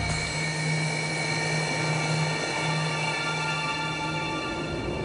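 Sukhoi Su-30 MKR fighter jet turbines spooling up, a steady loud roar with a sustained shrill whine and hiss layered on top, continuous and close.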